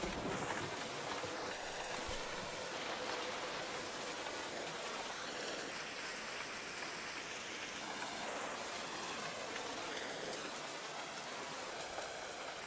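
Steady rain falling on a surface, a dense continuous hiss with scattered drops, even and fairly soft throughout, no voices.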